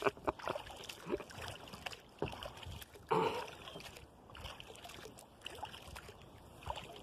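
A kayak paddles across a mill pond in Vermont, with soft water swishes and small splashes from the paddle strokes close by, one stronger splash midway, and faint quiet voices now and then.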